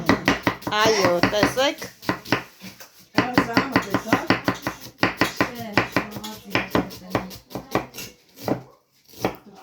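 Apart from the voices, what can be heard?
chopping onion with a knife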